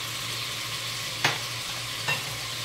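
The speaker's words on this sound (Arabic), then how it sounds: "الدوارة تحب الكمون وتحب الثوم، ونقلي كلش هنا هكذا مع بعض" Tripe frying in a pan with cumin and garlic gives a steady, moderately quiet sizzle, broken by two short stirring scrapes partway through.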